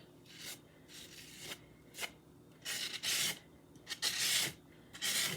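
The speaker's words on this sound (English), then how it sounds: "We want to scrape most of the spackle off." Spackle is scraped off a fake peppermint cake in a series of short, raspy strokes, about eight close scrapes with brief pauses between, quiet and without talk.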